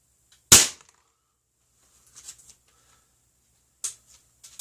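An air gun fires a single PDG pellet with one sharp, close crack, followed by a few faint clicks and a second small snap of the pellet or action a few seconds later.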